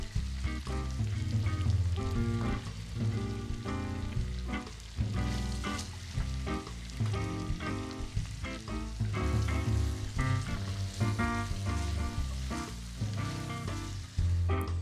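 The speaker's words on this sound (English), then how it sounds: "Then add in the mince and stir constantly over a fairly high heat." Pork mince sizzling as it is stir-fried over fairly high heat for Taiwan-style braised pork, a loud, continuous crackling sizzle broken by repeated clatters of stirring throughout.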